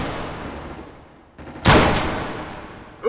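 Gunfire in the VR shooter game H3VR: a burst of distant shots, then a loud, sharp close blast with a decaying tail, followed by another quick report at the end.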